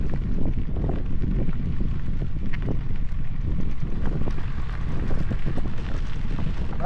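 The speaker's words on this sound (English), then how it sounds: "The wind's right out of the west, and we're pretty much going west right into town." Steady, loud wind roaring and buffeting a microphone on a bicycle ride heading west into a headwind across flat open plain, a continuous rumbling gust noise throughout with no talk.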